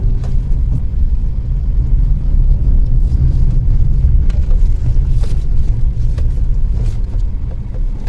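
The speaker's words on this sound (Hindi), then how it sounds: "थोड़ी सी स्पीड देता हूँ गाड़ी को" A 2023 Maruti Suzuki Ignis Sigma base model accelerates on a rough road, giving a loud continuous low rumble of engine and tyre noise with steady road roar throughout.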